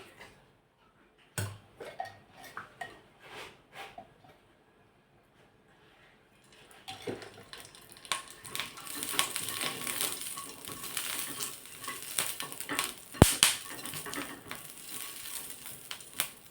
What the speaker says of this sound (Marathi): आपण भाजून घेणार आहोत थोडंसं तेल टाकू म्हणजे मिरच्या लवकर भाजतील